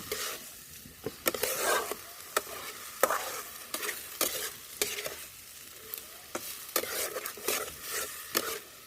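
Potatoes being stirred and fried in a pan for a raw-banana kofta curry, with a steady sizzle punctuated by repeated sharp scraping strokes of the spoon every second or so, close and clear with no talking.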